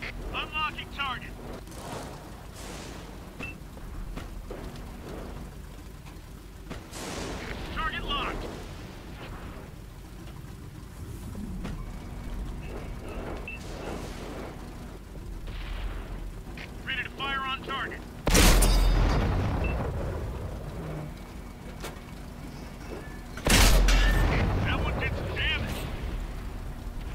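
Two heavy booms from the SU-85 tank gun in World of Tanks on the Live Oaks map, spaced several seconds apart over engine rumble, with a voice talking earlier.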